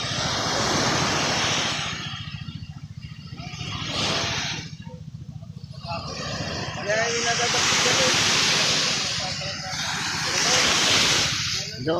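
Sea waves on a rough coast, with broad, roaring surges that rise and fall in long swells, close and loud, and a voice briefly heard partway through.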